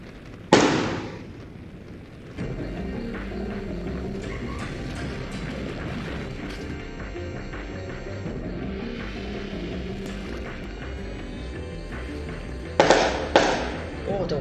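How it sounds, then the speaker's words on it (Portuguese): Fireworks going off nearby: a few sharp loud bangs with crackling bursts at the start and near the end, while game music and background sound play steadily between them. "O cara tá soltando fogos direito"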